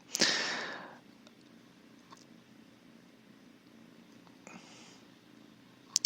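A house cat purrs close by in a steady low rumble throughout, opening with a short burst of rustling noise and ending with a couple of sharp clicks.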